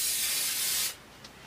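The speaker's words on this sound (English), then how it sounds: "that's a big cloud of spray" An aerosol can of no-slip grip spray for quilting rulers releases a loud, steady hiss lasting almost a second before cutting off abruptly, followed by a brief faint puff and quiet room tone.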